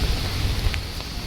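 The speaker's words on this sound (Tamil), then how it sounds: "இதுதான் மழை பெய்யுது," Light drizzle falling in Mumbai, a steady soft hiss of rain mixed with wind rumble on the microphone, continuous and fairly close with no voices.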